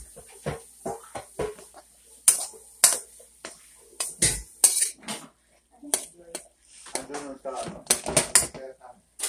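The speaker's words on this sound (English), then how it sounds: "It is now being sautéed." Angus beef sautéed in a pan with metal utensils scraping and clinking against the pan in irregular bursts, a faint sizzle between the strikes, and a voice speaking now and then.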